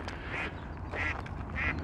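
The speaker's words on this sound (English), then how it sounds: "And there go some ducks." Ducks quack outdoors in three separate bursts spread evenly, moderately loud over a steady low background rumble, with no one speaking.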